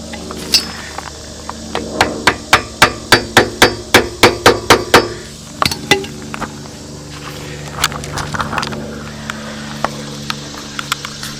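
Screwdriver tapped against the shift lever of a Honda ATC, about a dozen sharp metallic knocks in a steady rhythm, loud and close, followed by scattered lighter clinks and handling noise.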